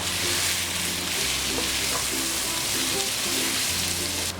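Sliced onions with crushed pepper sautéing in a hot pan for pepper chicken, giving a steady, loud sizzle and frying hiss throughout with a faint low hum beneath.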